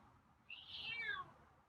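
A single soft, drawn-out meow from a feral cat being tamed, faint and close, over quiet background noise.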